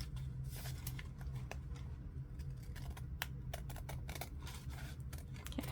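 Scissors snip through a small piece of paper scrap for a Christmas ephemera booklet, giving a run of quick, close, crisp cuts over a steady low hum with no talking.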